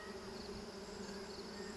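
Honeybees buzzing at an open hive, a steady close-up drone with a sustained tonal hum that holds unbroken and fairly faint throughout, with no voices.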